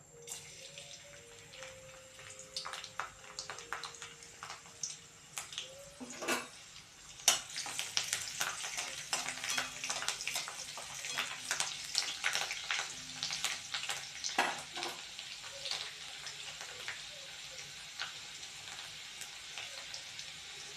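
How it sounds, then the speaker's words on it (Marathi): Chopped garlic fries in hot oil with mustard seeds, a continuous close sizzle with scattered sharp pops and crackles that grow busier partway through. "तेल गरम होतंय, यात आपण चिरलेलं लसूण टाकून घेणार आहोत।"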